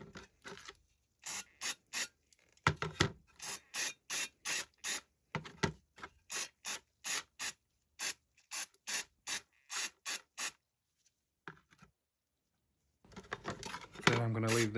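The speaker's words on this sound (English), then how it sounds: "let's see how good this spray-on paint stripper is now" Spray-on paint stripper applied to the dismantled parts of a 1970s Mamod Minor MM1 model steam engine, heard as a long series of short, close hissing aerosol bursts in a steady rhythm, with louder handling noise at the end.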